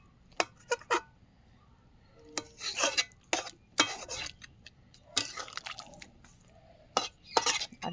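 A spoon stirs fish curry in a pot, making intermittent close scrapes and metallic clinks in an irregular rhythm, with no talk.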